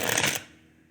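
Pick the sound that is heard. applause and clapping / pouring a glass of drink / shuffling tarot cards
shuffling tarot cards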